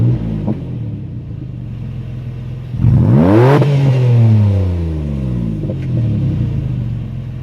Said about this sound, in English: when you really put the boot down, it does open up, give it a lot more flow